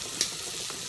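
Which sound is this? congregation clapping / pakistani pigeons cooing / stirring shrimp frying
stirring shrimp frying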